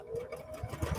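A sewing machine running steadily, a close, whirring mechanical drone with a fast rhythmic chatter of the needle underneath.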